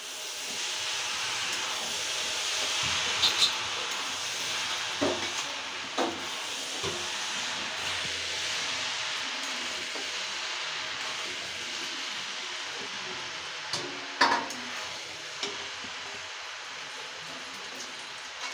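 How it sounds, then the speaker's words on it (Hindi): Chow mein hisses and sizzles in a hot pan as it is gently mixed, a steady soft frying hiss broken by occasional light clicks and scrapes of the utensil. "अब हम इसे धीरे से मिक्स कर देंगे"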